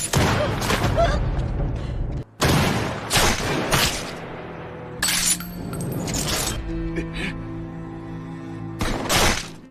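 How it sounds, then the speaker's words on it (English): Gunfire erupts in a film battle scene, sharp loud shots and bursts punctuating the action, with booming impacts, metallic ringing and scattered clinks between volleys. "the moment is cut short when gunfire erupts"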